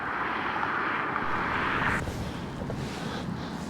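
Strong wind buffets a camera microphone at sea aboard a flounder fishing boat, a loud rushing roar that drops off abruptly about halfway through, leaving a softer background rumble.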